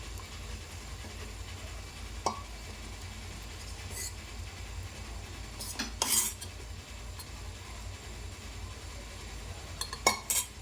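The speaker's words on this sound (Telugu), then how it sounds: "అందుకే స్టవ్ నుంచి దింపి వేడి మీదనే కలుపుతున్నాను." A utensil scrapes and knocks inside a hot pot as ragi flour mixture is stirred off the stove, with occasional sharp metallic clinks over a steady low background hum.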